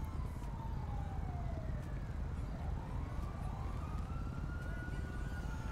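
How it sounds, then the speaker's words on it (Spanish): An ambulance siren in a roleplay video game wails continuously, its pitch sweeping up and down over a steady, loud engine and road drone, with no voices over it. "ya viene la ambulancia, anda"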